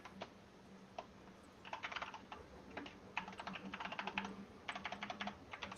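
Typing on a computer keyboard, with quiet bursts of rapid key clicks in irregular clusters and brief pauses between them, close by and alone.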